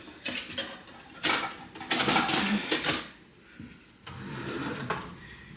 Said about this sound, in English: Now I gotta raid my brother's drawers real quick